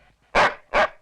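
A dog barks twice, two short, loud, close barks about half a second apart with near quiet around them.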